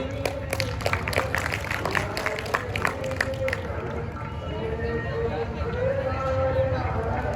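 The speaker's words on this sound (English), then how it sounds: "A big round of applause for the Godavari group." Audience at a school National Science Day event claps for the Godavari group, a burst of crowd applause that fades out after a few seconds, leaving background murmur and a voice.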